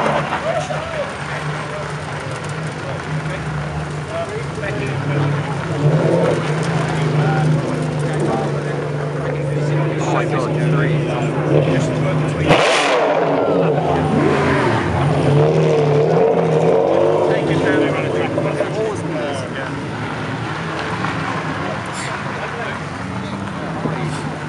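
Pagani Zonda supercars passing at a supercar and hypercar parade at Wilton House, a steady loud engine roar with a sharp surge as one goes by close, while onlookers talk over it.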